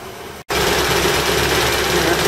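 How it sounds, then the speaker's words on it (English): A BMW E30 318i four-cylinder engine idles steadily and close by, a continuous low running hum after a brief cut near the start, with no talk over it. "Happy little engine"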